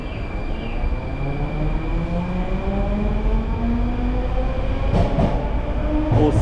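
A Soviet-era Moscow metro train runs steadily with a continuous rumble and rail clatter, and a few sharper rattles come near the end. No one speaks.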